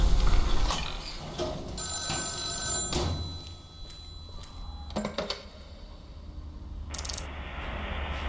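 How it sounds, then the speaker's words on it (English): Telephone ringing in the horror video game Deep Sleep: Labyrinth of the Forsaken, a bright repeating bell tone in bursts over a low ambient drone, with some clanking mechanical noises between rings. "Okay, the phone is ringing again."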